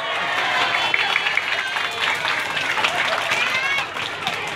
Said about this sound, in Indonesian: Pomoal tepuk tangan meureun.